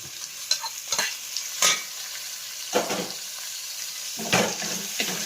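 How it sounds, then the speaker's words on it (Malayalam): Onion and tomato sautéing in a pan for a Kerala-style egg curry: a steady sizzle broken by several sharp spoon scrapes and stirring strokes, close up, with no voices. "അതിലേക്ക് നമുക്ക് ഒരു തക്കാളി എരിഞ്ഞതും കൂടിയിട്ട് വഴിക്കാം"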